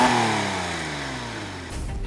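A Porsche 997.1 Carrera S on its stock exhaust revs up and then lets the engine fall back, a single smooth, fairly subdued rev heard up close with no talking.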